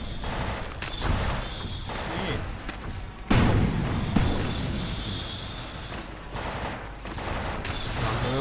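Pistol gunfire in the video game Defiance, rapid shots and bursts mixed with booming impacts, loud and dense, with a voice talking over the action.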